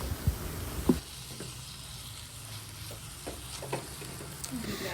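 Chopped tomatoes are frying in a pan of prawn biryani masala, giving a soft, continuous sizzle with light stirring scrapes and a few clinks, fairly quiet and close.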